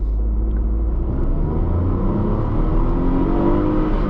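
Tata Tiago hatchback accelerating hard in sport mode during a 0-100 run, a loud, continuous engine drone climbing in pitch from inside the cabin, with no pauses or talk.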